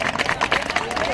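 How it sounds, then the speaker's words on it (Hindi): A crowd at a sanitation workers' strike protest in Harda claps loudly and continuously, a dense sustained wash of applause with voices mixed in. "जोरदार ताली है"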